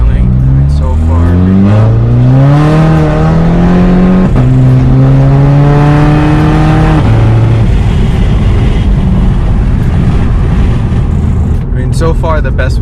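A Stage 2 CC fitted with a CTS throttle body spacer accelerates hard, its engine note climbing through the gears with brief drops at each shift before settling into a loud, steady roar, heard from inside the car.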